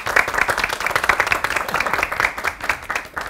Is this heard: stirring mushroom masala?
no